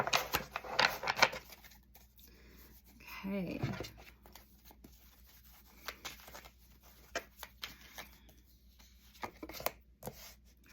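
A tarot card deck is shuffled in short riffling bursts with soft papery flicks and taps, and a brief spoken word breaks in once.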